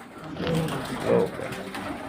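Domestic pigeons cooing at their nest of eggs, a few soft, close, throaty coos over a low background murmur.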